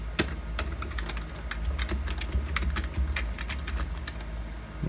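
Keys clatter on a computer keyboard during an operating system installation on a 2004 retro Windows XP PC, a steady run of sharp, close clicks at an uneven quick pace over a low background hum, without talking.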